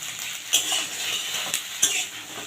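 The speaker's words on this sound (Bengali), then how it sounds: "ভেন্ডির সাথে পেঁয়াজটা ভাজা যাবে এবারে দিয়ে দিচ্ছি ভেন্ডিগুলো কেটে রাখা" Sliced okra sizzles in a frying pan with onions, a utensil scraping and clinking against the pan in a few sharp strokes over the steady frying hiss.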